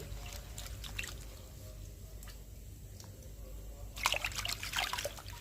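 Water trickling and splashing as chukkakura leafy greens are washed with salt, a steady low dribble that turns into louder, busier splashing near the end.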